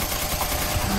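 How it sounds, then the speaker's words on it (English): A Gatling gun fires in the action game Devil May Cry 4 as a dense, unbroken roar of rapid shots, loud and constant for a single second. "A Gatling gun."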